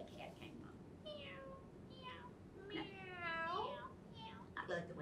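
A voice imitates a cat, drawing out several rising and falling meows one after another, close and fairly loud over a low background hum.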